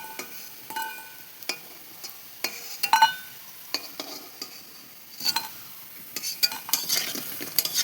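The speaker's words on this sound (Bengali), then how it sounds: "তোমার বড়াগুলো ভাজা হয়ে গেছে, এখন আমি তুলে নিচ্ছি" Lentil-and-drumstick fritters are lifted out of hot frying oil, with a soft sizzle under repeated light scrapes and clinks of a metal utensil against the pan.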